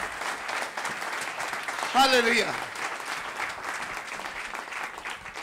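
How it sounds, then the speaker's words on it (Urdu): Church congregation clapping loudly at a Friday service in Urdu, a continuous broad wash of applause with a voice calling out briefly in the middle over the hands. "آئے زوردار تالیوں سے خداوند کے نام کو جلال دے"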